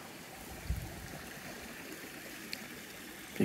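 A small creek with tea-colored tannin water runs at the edge of a swamp in a nature preserve, a steady soft wash of flowing water with a few faint bumps and no voices.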